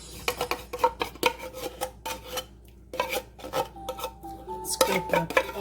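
A spoon scrapes condensed milk out of a metal tin, a run of close, rapid rasping strokes with short pauses and a few faint metallic clinks.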